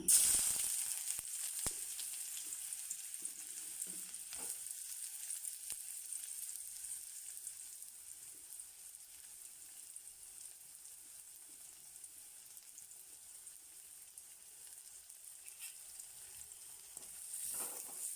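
Steady crackling sizzle of chopped onions frying in hot oil, soft and continuous with a few louder pops near the start.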